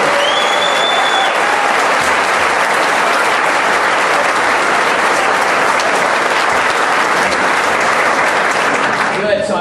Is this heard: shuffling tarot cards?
no